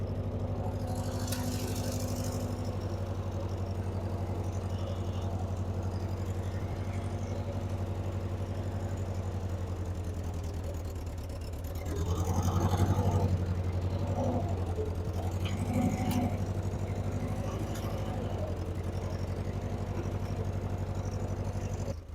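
A Ford 2N tractor engine converted to 12 volts runs steadily at idle with a low, even rumble, briefly rising and roughening midway before settling, close and continuous.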